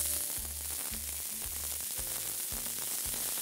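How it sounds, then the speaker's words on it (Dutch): Wagyu hamburgers sizzling on a griddle plate, a constant close, bright frying hiss over a repeating low thumping pulse, with no talk. "We bakken die hamburgers 3 minuten aan iedere kant."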